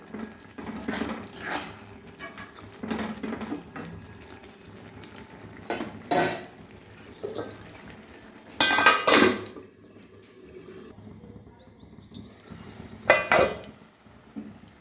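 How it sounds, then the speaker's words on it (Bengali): Cabbage stirred in a cooking pot, with scraping and clinking of the utensil against the metal and a soft simmer beneath, followed by the lid being set back on with a few sharp clanks. "একটু নেড়ে দিয়ে আবার ঢাকা দিয়ে রাখবো।"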